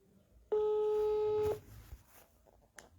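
A single steady electronic telephone tone sounds for about a second while a call waits to be answered, clear and close, then stops and faint room noise follows.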